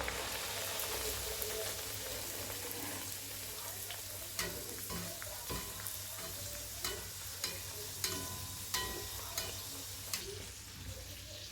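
Green pea kachori fry in hot oil with a steady, dense sizzle and bubbling, punctuated by regular soft pops and crackles over several seconds.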